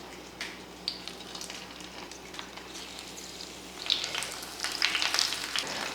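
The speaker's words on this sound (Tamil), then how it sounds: "இப்போ இது மேலே நம்ம பொதிச்சு வச்சுருக்க மீன் எடுத்து வச்சிடலாம்." Fish wrapped in a parcel fries in a little oil in a wide pan, a steady crackling sizzle that grows busier and louder near the end.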